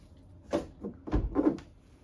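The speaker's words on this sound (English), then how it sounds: "let's begin to close the door. We see the mechanism working" A 180-degree bifold door being closed, its mechanism producing a few close, soft knocks and sliding thuds in an uneven sequence, with quiet between them.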